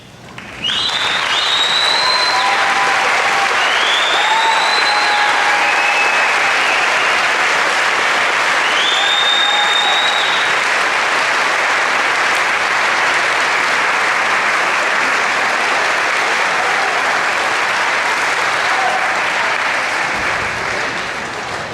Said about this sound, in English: I need you all to stand up and give these people a standing ovation